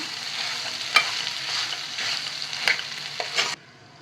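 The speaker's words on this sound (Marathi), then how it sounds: "आता हे जे आहे ना स्टफिंग ते छान मिक्स करून घेऊया" Spiced potato masala sandwich stuffing with mashed potato, salt, garam masala and lemon, stirred in a hot pan: steady sizzling with a few sharp scrapes and clacks of the spoon, then the sound stops abruptly.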